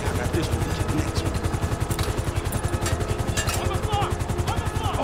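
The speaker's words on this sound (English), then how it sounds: "Helicopter inbound" A helicopter in the GTA V video game, heavy rhythmic rotor thumping pulsing steadily and loudly throughout, with game effects and occasional voices layered over it.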